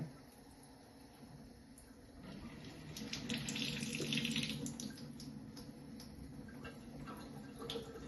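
Water runs from a Kangen water ionizer set to pH 7.0, a steady faucet-like stream that swells in the middle and carries on at moderate level, with faint clicks and background room noise.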